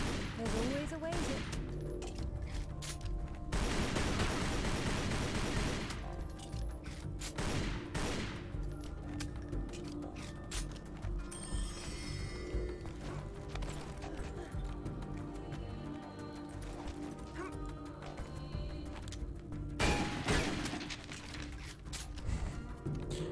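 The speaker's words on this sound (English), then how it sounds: "I love shooting these lockers." Rapid bursts of gunfire in the video game Tomb Raider as lockers are shot, dense and loud volleys with brief pauses, mixed with game music and noise.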